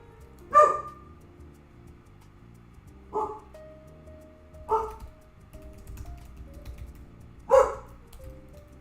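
A dog barks at the mailman in four sharp, separate yaps spread across the stretch. They sound moderately close indoors against a quiet background, with a long gap before the last one.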